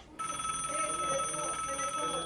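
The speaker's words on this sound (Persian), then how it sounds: "تلفن زنگ میزنه." A telephone rings in a Persian comedy series set among bank employees. It starts abruptly and holds one loud, steady electronic ring to the end, with no talk over it.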